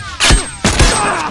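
A grenade blast in The Last of Us: Factions, heard as two loud, close booming thuds roughly half a second apart, each with a crackling burst, alone without talk.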